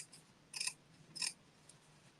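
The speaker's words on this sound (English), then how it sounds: "So I'm gonna trim my seam allowance" Scissors snip twice through a fabric seam allowance during garment sewing, with two crisp, quiet metallic cuts about half a second apart against a faint room hush.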